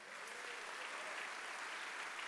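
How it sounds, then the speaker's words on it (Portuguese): A church congregation claps continuously, a dense wash of many hands applauding together at steady intensity with no break and no voices above it. "Aplauda o Senhor."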